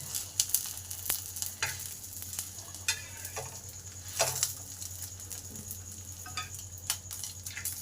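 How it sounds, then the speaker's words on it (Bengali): Fish patishapta, a rolled Bengali crepe stuffed with fish, frying in a little oil in a pan, giving a steady soft sizzle with occasional stirring scrapes and light clatter, fairly quiet and close, with no talking. "এবার সামান্য পরিমাণ তেল দিয়ে এটাকে ভেজে নিতে হবে"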